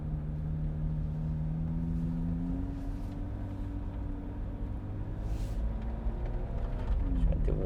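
A Corvette Z06 moves off slowly with a low, steady engine drone that rises gently in pitch as it pulls away, heard from inside the car.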